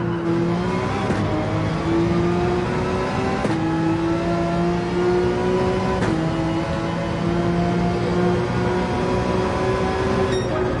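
Race car engine in Gran Turismo 7 holding a steady high drone, with the pitch dropping in steps as the car brakes and downshifts into a long turn, loud and continuous with no talk.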